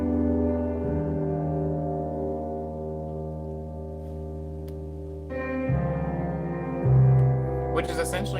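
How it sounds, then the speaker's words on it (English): A sustained, droning synth-like sample washed in heavy reverb and delay with the low end cut, holding steady chords that shift twice, with a brief brighter burst at the very end. "So we go over to 22, we put on reverb, and we turn the dry down"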